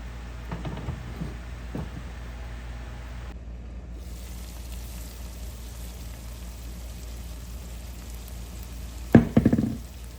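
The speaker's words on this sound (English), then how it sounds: "add your Lauki. Cover it and continue to cook it on medium-high flame" Bottle gourd (lauki) cooking with chilies and spices in a pan over a medium-high flame gives a steady, close sizzle and hiss, then a sharp loud clatter near the end.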